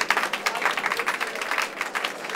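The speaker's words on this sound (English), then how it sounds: "Give a nice round warm of applause for our next comedian, Taz the Yorkie." Studio audience applause greets the next act at a stand-up comedy show, a steady wash of many hands clapping close by for a couple of seconds with no voices over it.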